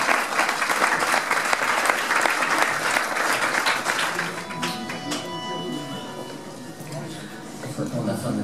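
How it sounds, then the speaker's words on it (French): An audience at a half-marathon presentation applauds loudly for about four seconds, then the clapping fades as music with steady tones carries on and voices talk underneath. "Je vous demande de l'applaudir très fort."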